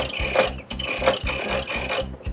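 A saw fence being tightened up against the blade in a plywood canoe build, giving a steady run of rhythmic ratcheting clicks and mechanical rasps, close and fairly loud, with no talking.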